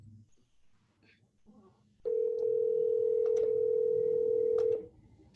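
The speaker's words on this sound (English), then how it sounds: "my phone's ringing, so excuse me while I mute that" A steady electronic phone tone sounds for about three seconds after faint speech, one continuous clear beep that then stops abruptly.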